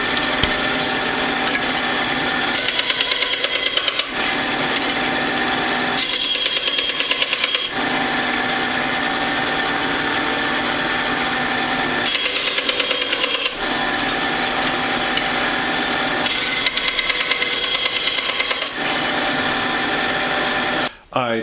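Excess Kydex sheath material being cut off with a power tool, a loud harsh grinding whir in repeated bursts of a few seconds each, separated by short quieter gaps.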